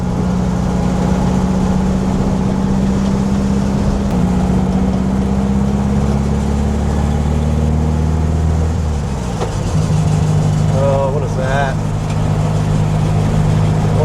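A 1965 VW Beetle drives along with a steady, droning engine hum, and its pitch shifts about two-thirds of the way through. Any scraping or rubbing noise stays buried in the engine and road sound, and a brief vocal sound appears near the end.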